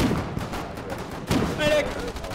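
Gunfire in the naval warfare game Foxhole, with several sharp shots and a louder close blast partway through, heard alongside a voice talking.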